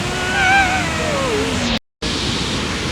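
A river rushes loudly in the Kasol area, making a steady broadband roar. A faint tonal whine rides over the water early on, and the sound cuts out completely for a moment before the roar returns.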